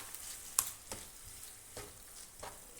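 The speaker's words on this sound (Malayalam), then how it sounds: "ഇനി ഇതെല്ലാം കൂടെ നന്നായി ഒന്ന് മിക്സ് ചെയ്ത് കൊടുക്കുക." A vegetable curry mixture is stirred in a hot pan, giving a faint sizzle with a few soft scraping clicks of the spoon at irregular intervals, no voices present.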